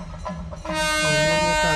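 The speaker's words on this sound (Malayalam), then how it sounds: "അടച്ചടക്കും ട്രെയിൻ വരുന്ന കേട്ടോ." A train approaches a railway crossing at night, a loud sustained horn blast rising over rumbling rail noise, close and dominating the short moment.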